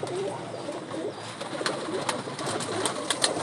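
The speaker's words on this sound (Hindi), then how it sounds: "एक और ब्रीड है कबूतरी" A female pigeon from a breeding pair in a loft of flying pigeons gives low, repeated coos, fairly close and clear against a mild background of other birds.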